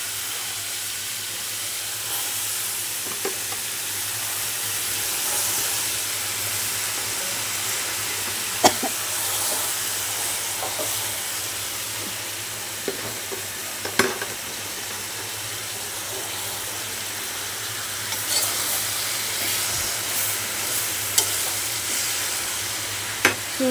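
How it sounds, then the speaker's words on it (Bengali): Greens tossed into a pan of fried shrimp crackle with a steady close sizzle and steam, scattered clicks and taps of the utensil and pan popping through the frying hiss. "এখন শাক দিয়ে দিচ্ছি।"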